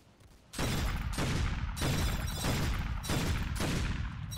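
Gunfire from a gun in a Roblox zombies video game, loud sustained bursts of rapid shots in repeated volleys of about half a second, close and continuous, with no talk.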